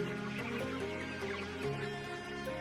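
Broiler poultry chickens cluck in a dense, constant chorus close by, many overlapping calls filling the space without any speech.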